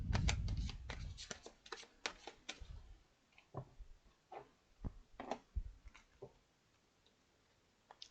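Tarot cards shuffled by hand for a card reading, a close series of crisp riffling bursts and scattered slaps with brief pauses, quiet and mostly alone.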